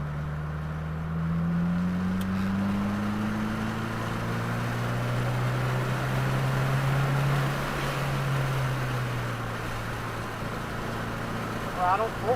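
A 2022 Subaru WRX at full throttle on the Waterford Hills race track, its engine drone rising steadily in pitch and then dropping, heard from inside the car beneath wind and road noise while a coach calls out instructions.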